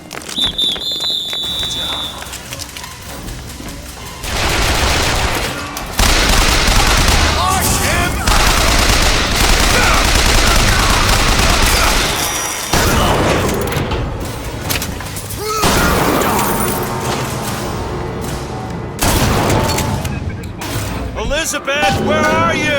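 Gunfire from Bioshock Infinite rattles in loud, repeated bursts, with machine-gun strings, heavy shots and thuds over several seconds, while voices shout over the fighting.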